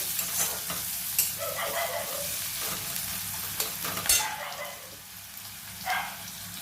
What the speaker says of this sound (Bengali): পেঁয়াজটাকে আমি একটু লাল করে ভাজবো।